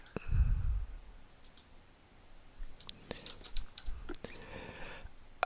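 A computer keyboard typed on during a Dyson Sphere Program game stream gives sparse, quiet clicks and short bursts of keystrokes, with soft background noise between them.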